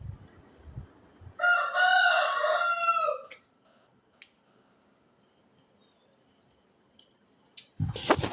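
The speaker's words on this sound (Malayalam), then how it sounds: "എപ്പോഴും ആളനക്കം കേട്ടാൽ അപ്പോൾ കോഴി കൂവൽ തുടങ്ങും" A rooster crows once at close range, a loud drawn-out call of about two seconds. Quiet gaps and faint knocks come before and after it, and a short burst of handling noise follows at the end.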